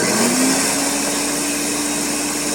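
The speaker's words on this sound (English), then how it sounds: "I'm going to take my base and I'm going to puree." A Ninja blender purees a salsa base in a steady, loud, high-pitched whir that runs unbroken and alone throughout.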